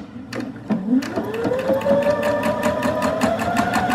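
A sewing machine runs a straight stitch through fabric for a simple holiday gift project, giving a steady, rapid mechanical stitching rhythm that is close and continuous with no talk over it.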